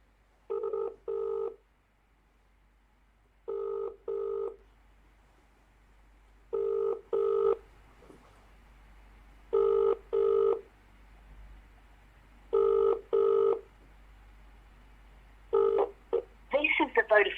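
A phone call on a Vodafone line rings out in the classic double-burst pattern, five pairs spaced about three seconds apart, clear and close, before a short clattering burst as it cuts to voicemail.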